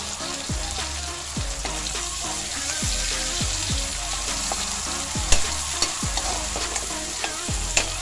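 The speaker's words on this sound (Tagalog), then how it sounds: "So yun, inuna muna natin yung ating karne." Meat for ampalaya con carne fries briskly in a pan, stirred with repeated sharp spatula scrapes against the metal over a constant loud sizzle, a few clanks near the end.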